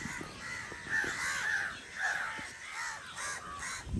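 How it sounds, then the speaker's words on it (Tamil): Many crows caw over one another in a noisy, continuous chorus from a tree, moderately distant, with no one speaking. "அந்த சைடு ஒரு காக்கா படை அந்த மரத்தை ஆக்கிரமிச்சிருச்சு"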